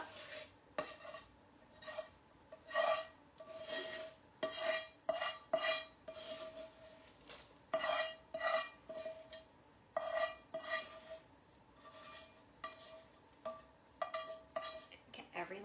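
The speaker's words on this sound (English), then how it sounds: "I'm gonna add in these veggies" Pieces of vegetables tumble and clatter into a pot of pizza soup, scraped in with a utensil in a run of short, sharp knocks and scrapes over a quiet simmer, close to the listener.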